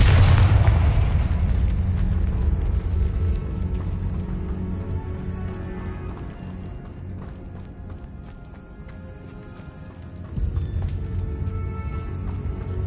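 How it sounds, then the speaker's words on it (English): A loud fiery blast from the Confringo explosion spell in Hogwarts Legacy bursts at the start, then fades into a lingering rumble and game ambience with a faint thud near the end. "Confringo!"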